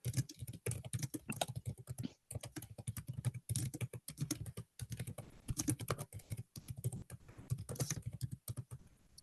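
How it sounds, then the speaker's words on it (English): Steady, fairly close clatter of keys on a computer keyboard as a website URL is typed, irregular rapid keystrokes with brief pauses, running alone throughout. "I'm just going to type the PowerMaths website, the URL in the chat"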